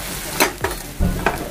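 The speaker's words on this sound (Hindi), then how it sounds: "इसको जो है अच्छे से मिक्स कर लेंगे" Pasta masala of salt and Kashmiri red chili being stirred in a pan, with a few distinct scraping strokes and a soft sizzle between them, close and fairly loud, no talking.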